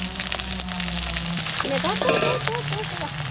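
Nigella seeds crackle and sizzle in hot mustard oil, a busy spattering hiss with small pops, close up.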